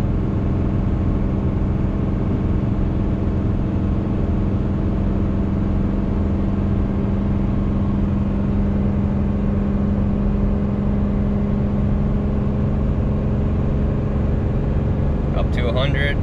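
A 2017 Ram 3500 pickup with a Cummins diesel engine pulls a 30,000 lb trailer, giving a loud, continuous in-cab drone that holds steady the whole time, with a brief rattle at the very end.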